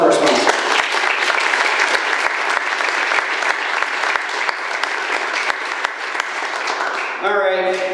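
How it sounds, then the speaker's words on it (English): Sustained audience applause at a comedy showcase in a civic theatre, loud and steady for about seven seconds with dense clapping, ending abruptly as a voice begins to speak. "let's give a round of applause for our sponsors"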